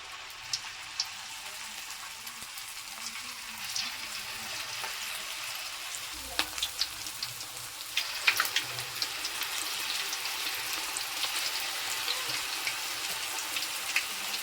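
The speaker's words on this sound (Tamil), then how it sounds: "எண்ணெயில் போட்டு எடுக்க போகிறேன் எண்ணெய் வந்து நல்லா காஞ்சிட்ருக்கு" Mushroom fritters, roadside-stall style, deep fry in hot oil with a constant bubbling crackle and scattered louder pops, up close and fairly even throughout.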